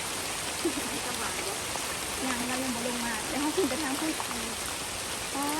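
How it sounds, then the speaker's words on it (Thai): Steady rain hisses across a palm plantation while someone talks over it at close range. "ฝนตกน้ำเลยครับ"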